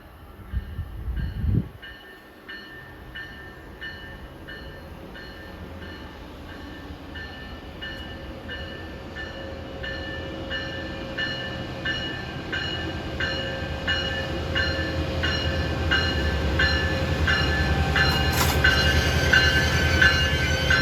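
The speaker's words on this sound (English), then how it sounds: "here comes MARC train 423 from Washington to Baltimore at 1:39" A MARC passenger train hauled by a Siemens Charger locomotive approaches on the Northeast Corridor with a low diesel rumble and a steady electrical whine, growing louder over twenty seconds, with rhythmic clicking above.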